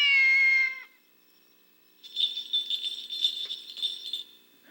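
A cat meows once with a clear, drawn-out cry, then after a short pause a run of rattling, jangling noises follows, close and fairly loud.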